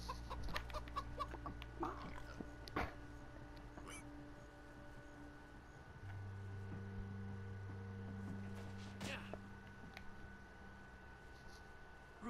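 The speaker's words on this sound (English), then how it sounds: "Stupid chicken." Chicken clucking in the video game Minecraft Story Mode, faint short clucks over a droning game soundtrack, with a person talking at times.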